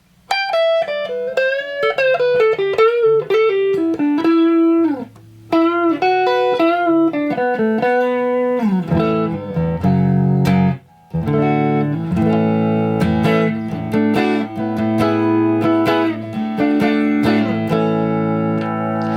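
A clean electric guitar on the neck pickup through a 1965 Fender Showman amp head plays descending melodic runs, then strummed chords, with a warm, round tone, up close and loud, with brief pauses between phrases.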